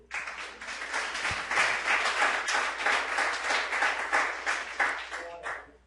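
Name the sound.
congregation applauding in church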